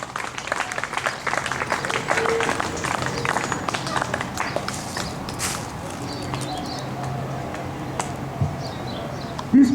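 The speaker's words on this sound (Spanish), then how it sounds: "Dale un aplauso a Jesucristo." A church congregation claps in praise during a sermon, scattered hand claps building into steady applause over a murmur of voices, fairly distant in a reverberant room.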